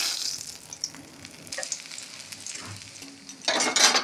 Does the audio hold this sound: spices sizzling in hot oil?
yes